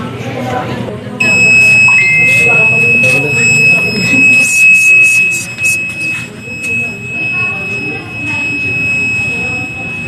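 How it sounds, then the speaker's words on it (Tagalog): An Arduino Uno smart fire alarm buzzer, set off by its smoke sensor, sounds a steady high-pitched electronic tone that starts about a second in and holds continuously, with voices and room noise underneath. "Functionality of smoke sensor."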